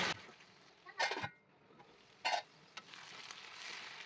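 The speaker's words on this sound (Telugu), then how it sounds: "అల్లం వెల్లుల్లి పేస్ట్ వేస్తాం కదా, కొంచెం పచ్చివాసన పోయే వరకు ఫ్రై చేసుకోవాలి" Ginger garlic paste fries in a hot pan for a brinjal potato curry, giving a soft steady sizzle broken by two short bursts of spoon stirring, close and fairly quiet.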